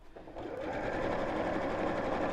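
A home sewing machine runs steadily, stitching a bottle gift bag as it is guided slowly around a curved handle seam, with a continuous close whir that starts up within the first half second.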